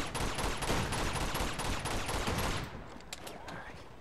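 Gunfire in the video game Uncharted 2: Among Thieves comes as a dense, loud burst of rapid shots and bangs for a few seconds, then thins out to a couple of scattered reports.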